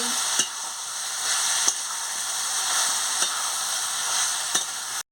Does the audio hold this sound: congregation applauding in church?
no